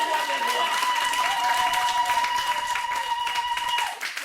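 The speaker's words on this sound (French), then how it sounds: "Au nom de Jésus, acclame le Seigneur." A church congregation claps and acclaims the Lord in steady, dense applause with mixed voices underneath, holding strong for about four seconds before easing off at the end.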